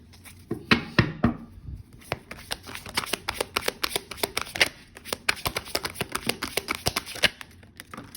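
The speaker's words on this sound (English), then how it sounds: "So let's go ahead and pull more cards and break this down further." Tarot cards being shuffled and pulled from the deck, a dense run of quick papery riffles and flicks, close and fairly quiet, continuing steadily with no talking.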